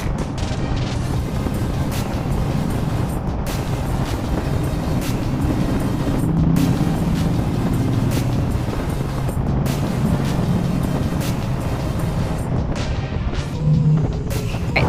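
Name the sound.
motorcycle riding through underwater tunnel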